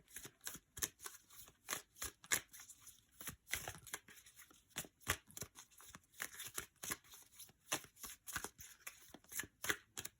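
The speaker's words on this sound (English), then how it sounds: "as I was shuffling" Rapid, crisp riffling bursts of tarot cards being shuffled, repeated in quick clusters at close range, with soft slaps between them and no talking.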